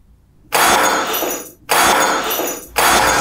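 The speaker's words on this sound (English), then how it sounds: "Then throw the wine glass down on the ground." A wine glass thrown down on the ground shatters in loud, bright crashes, with three sharp bursts of breaking glass separated by short silences.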